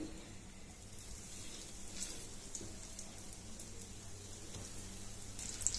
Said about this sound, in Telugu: ఇప్పుడు మనం వీటిని రెండు వైపులా కాల్చుకొని పెట్టుకోవాలి